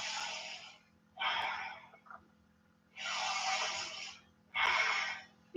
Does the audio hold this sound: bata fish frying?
no